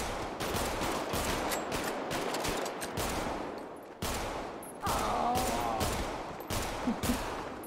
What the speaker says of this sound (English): Shoot in the air 3 times, all right?